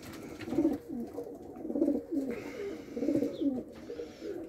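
Young racing pigeons coo in a loft, several soft, low throaty coos repeating in rhythmic bursts roughly every second and a half, close and fairly quiet, with faint rustling and a brief higher chirp.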